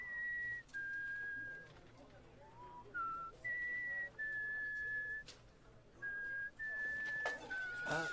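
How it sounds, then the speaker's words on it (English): A delivery man whistles Gizmo's song from the film Gremlins 2, a clear, faint tune of several held notes and short phrases with pauses between, set against a quiet indoor background. "he hears the delivery man whistling Gizmo's song"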